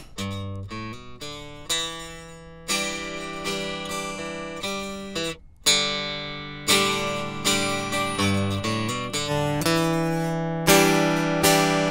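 A clean, dry electric guitar DI signal plays a melodic line of single notes and chords, each attack crisp and unprocessed, with no talking.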